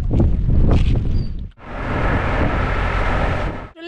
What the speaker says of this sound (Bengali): এই জায়গাটা থেকে প্রচণ্ড ঠান্ডা হাওয়া চলছে